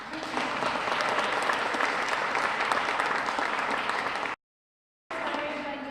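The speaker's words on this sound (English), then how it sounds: "can I hear a clap for that instead?" Steady applause from an audience at a foster youth luncheon, a dense, sustained wash of clapping that cuts off abruptly and then resumes briefly.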